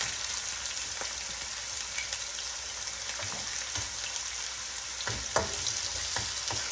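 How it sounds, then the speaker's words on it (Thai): Bacon being stir-fried in a pan sizzles steadily and fairly quietly, with occasional scrapes and clinks of a utensil stirring, and no voices. "เราจะผัดแค่เบคอนเราสุกเนาะ"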